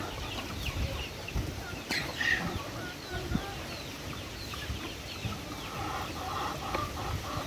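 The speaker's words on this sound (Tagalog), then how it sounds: "kasali naman yung mga manok guys kumain sa kanilang feeds" Chickens feeding on a Filipino farm, with steady soft clucks and scattered pecking sounds under constant barnyard background noise, with a few brief louder calls standing out.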